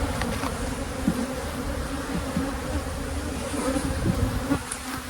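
Honey bees swarm and buzz around a frame from a nuc hive, a dense, continuous drone with individual bees passing close by, loud and steady and free of any talking.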